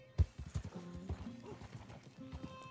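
A horse in Red Dead Redemption II clip-clops along at a quick gallop, steady hoofbeats close by with a brief whinny-like call in the middle.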